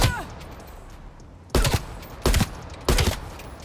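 M4 rifle fire in Call of Duty Black Ops Cold War comes as three short, loud, close bursts of rapid automatic shots spaced under a second apart, after a fading tail from earlier shooting.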